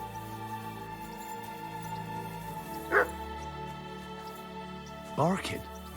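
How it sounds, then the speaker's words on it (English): In the video game Kingdom Come Deliverance 2, a dog gives two short yelping barks, the second a little longer, over quiet steady background ambience. "Barking?"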